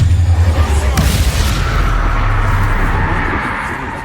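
A fire spell going off in Hogwarts Legacy, a loud booming blast with low rumble that swells near the start and slowly fades over a few seconds.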